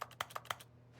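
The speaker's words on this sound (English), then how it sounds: "Why does it sound like I'm still typing keys," Keyboard typing in The Stanley Parable video game: a quick run of about five close, crisp keystrokes followed by quiet over a low steady hum.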